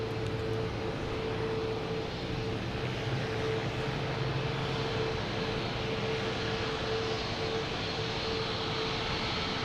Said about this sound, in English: We got a Delta taking off. Stick with the Delta. A321 heading to Minneapolis.